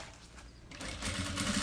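Sewing machine stitching bias binding onto a fabric pencil case, a steady mechanical whirr that starts quietly and grows louder and more continuous in the second half, with no talking.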